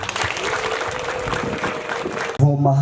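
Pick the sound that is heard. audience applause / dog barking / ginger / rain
audience applause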